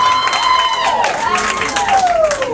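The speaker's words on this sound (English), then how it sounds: "We usually clap a little louder for him" A concert crowd applauds and cheers for the keys player at a show, loud, dense clapping that continues throughout while sustained musical tones ring over it.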